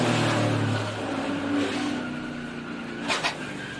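A NASCAR stock car engine roars from onboard during Speedweeks racing, a loud continuous drone with a harsh high-pitched whine and a brief sharp spike near the end.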